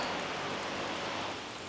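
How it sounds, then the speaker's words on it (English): Rain beginning to fall on a lake, a steady broadband hiss of drops spattering the water and surfaces nearby, even and continuous throughout with no voices. "Look, it's starting to rain."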